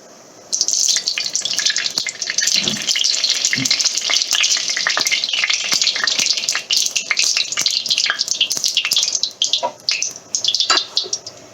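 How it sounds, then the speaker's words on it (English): Oil and ghee poured into a hot pan for a Rajasthani royal chicken curry, a loud, continuous crackling sizzle that begins abruptly and holds steady with bursts of sputtering and a faint chirp now and then. "So pour some oil and ghee."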